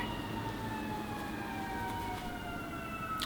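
An ambulance siren wails steadily from a distance, its tone drifting slowly in pitch over a constant background rumble.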